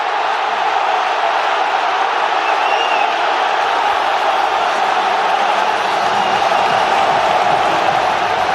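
Football supporters roar in delirium after Barcelona's equaliser against Inter Milan, a dense, sustained crowd cheer filling a big stadium, loud and unbroken throughout, with faint commentary beneath.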